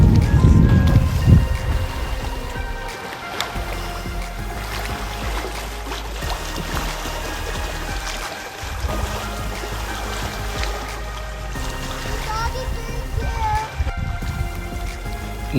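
Someone wades through the shallow water of Johnson Lake near Vancouver, Canada, with splashing that is strongest at the start, then a softer watery wash and a few faint voices in the background.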